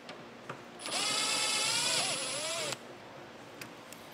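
A power tool spins out a 7mm head bolt on a 2023 Buick Enclave during a trailer hitch install, giving one close, steady whir of about two seconds against a quiet background.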